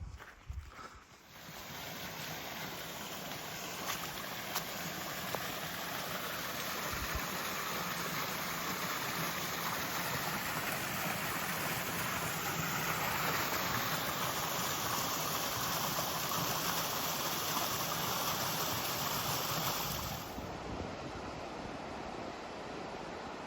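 The Carbon River flowing out of the Carbon Glacier on a mountain trail, a steady broadband rush of glacial meltwater heard from a distance, continuous and even for the whole stretch, with no voices.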